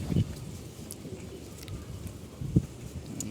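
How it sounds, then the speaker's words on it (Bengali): A Bagha pigeon on a rooftop gives two low, soft coos, one at the start and a slightly louder one near the end, over quiet outdoor background noise. "এই যে একটা কবুতর দেখতে পাচ্ছেন একটা বাঘা কবুতর"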